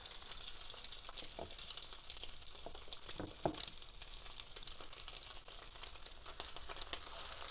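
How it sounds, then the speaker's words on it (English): Wild-caught cod fillets coated in crushed pork rinds frying in hot bacon grease, giving a steady, fairly quiet crackling sizzle throughout with a few sharper pops and spatters along the way, and no talking. "Now I'm going to take the fish, lay it down in the oil"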